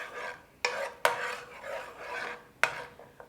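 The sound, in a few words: oyster sauce bubbling in pan while scraping the bottom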